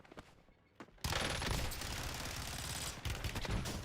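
Fennec submachine gun in the shooter game Warzone opens up with a sudden, loud burst of rapid automatic fire that runs without a break for nearly three seconds, close and harsh, after a quieter opening.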